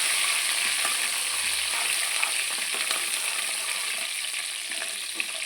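Cumin, red chillies and curry leaves sizzle steadily in hot oil for a ginger chutney tempering, a loud, continuous close frying crackle with a few stirring clicks.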